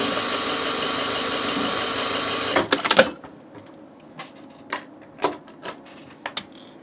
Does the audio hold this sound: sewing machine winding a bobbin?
yes